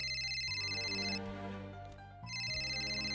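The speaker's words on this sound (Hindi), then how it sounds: "ये पक्का त्रिपुरा का ही फोन होगा।" A telephone rings with repeated electronic trills, two bursts separated by a short gap, clear and steady over a faint hum.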